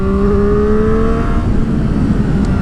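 A Triumph Street Triple R motorcycle engine revs and accelerates close by, its whining pitch climbing then steadying into a loud continuous roar.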